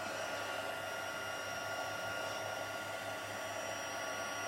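A heat gun blows a steady, unbroken whir with a low hum as it heats an embossed card sentiment, close and alone throughout.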